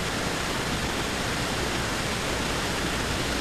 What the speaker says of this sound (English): The water is just about ready to boil.